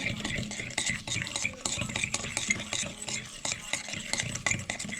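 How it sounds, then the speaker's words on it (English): Eggs, vanilla and brown sugar are mixed in a bowl for a basbousa batter, a close, steady scraping and clinking of a utensil against the bowl that goes on without break, with no voice. "I'm going to go ahead and add my vanilla and my brown sugar. Mix this together."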